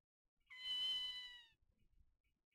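A cat in the Ghost Trick video game gives a single drawn-out, clear meow, tonal and sustained for about a second, followed by faint low background rumble.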